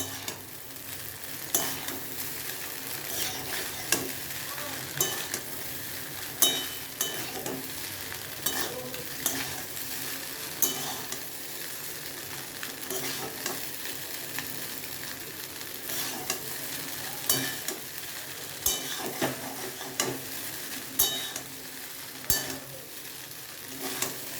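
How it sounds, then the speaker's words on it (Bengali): Boiled pasta being stirred and lightly fried in a pan, with a steady soft sizzle under repeated scraping and stirring strokes that recur every second or two; no talking. "হালকা হালকা করে পাস্তাটা ভেজে নেবেন"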